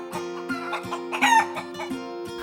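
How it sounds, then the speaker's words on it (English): Chickens clucking and a rooster crowing close by, loud overlapping calls with no voices. "my chickens, which are way too loud"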